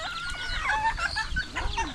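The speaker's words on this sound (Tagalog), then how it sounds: "Yan o, dami ng manok at saka itik." Many chickens, kept alongside ducks on a rural farm, cluck and squawk close by in a busy, overlapping chorus that runs steadily without pause.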